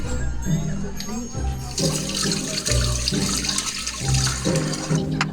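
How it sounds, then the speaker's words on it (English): Running water splashing steadily as a small glass aquarium tank is washed and scrubbed, with music playing underneath throughout. "I carefully washed the tank, scrubbing every inch of it"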